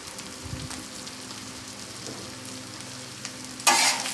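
Corn and beef bacon fry on a Blackstone griddle with a steady, close crackling sizzle, then a sudden louder hissing burst near the end.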